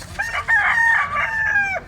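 A rooster crows once, a loud, close, drawn-out cock-a-doodle-doo lasting nearly two seconds with no talking.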